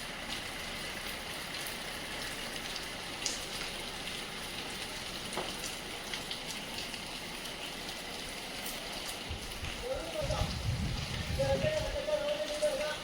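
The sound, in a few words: rain falling outside during monsoon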